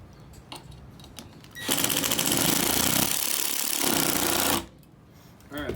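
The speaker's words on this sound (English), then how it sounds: "I will go ahead and tighten this one up pretty good." A power tool tightens a bolt on a fishing sonar transducer mount, a loud, steady buzzing whir lasting about three seconds, close by, with quieter handling noises before and after.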